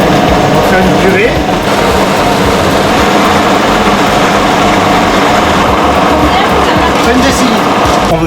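A food blender purees vegetables very fine in a chef's kitchen, a loud, close, continuous motor whir and churning roar that runs unbroken throughout.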